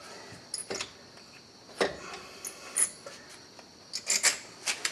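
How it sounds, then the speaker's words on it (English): A 90-degree pick scribing a mark on a CV axle of a 2001 Buick Park Avenue: short, scattered metallic scratches and ticks, close and fairly quiet, in irregular bursts with no talk. "Just a little 90-degree pick here. Scribe the front of this."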